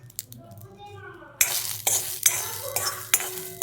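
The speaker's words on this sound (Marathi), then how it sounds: "आता पावटे थोडेसे तेल टाकून भाजून घेते." Field beans roasting in a little oil in a hot iron wok, with loud scraping stirs and crackling sizzle starting partway through, following a few softer clinks at the start.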